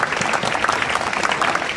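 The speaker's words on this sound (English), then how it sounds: "Round of applause for the young man." Spectators at a powerlifting deadlift meet applaud a lifter with brisk, steady clapping from a modest crowd, sustained and close.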